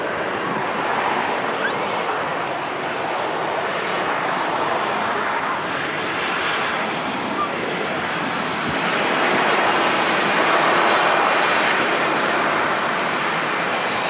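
A TUI passenger airplane at Manchester Airport gives off a continuous broad engine roar, steady and fairly loud throughout, swelling slightly late on, with occasional speech over it.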